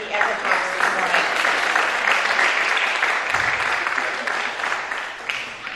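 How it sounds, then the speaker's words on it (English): An audience at Windham High School applauds student speakers in a hall, producing dense, continuous clapping that stays loud throughout and thins slightly near the end. "I want to first ask everyone to give a round of applause to the students who gave the ECHO talks this morning"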